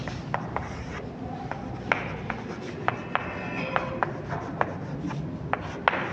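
Chalk or marker writes on a classroom board in a quiet run of short scratching strokes and taps, spaced irregularly, close by with faint room noise underneath.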